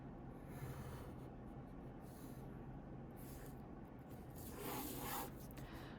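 Pencil drawing straight perspective lines on paper, faint close scratching strokes in a quiet room, with a slightly louder stroke toward the end and no talking.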